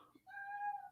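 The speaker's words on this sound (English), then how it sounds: "As the cat starts meowing," A single short cat meow, fairly faint and close, rising then fading.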